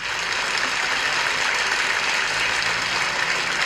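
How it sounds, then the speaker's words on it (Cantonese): Steady applause from an audience at a gala variety show, a dense even clatter of clapping that holds at the same level throughout without pause. "喺呢度請大家再一次以熱烈嘅掌聲，多謝佢哋。"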